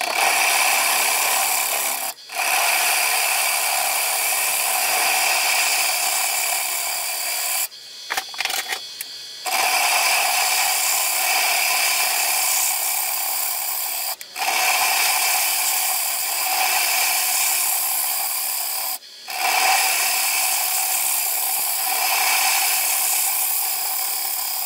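Bowl gouge hollowing a reversed mesquite bowl on a wood lathe: a steady, bright hiss of cutting runs continuously with brief pauses every few seconds, close and fairly loud, with no voices.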